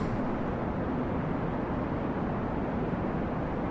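The rocket engine of a Kerbal Space Program craft fires through the atmosphere as a steady, fairly faint broadband roar. It holds an even, unbroken rush for the whole stretch.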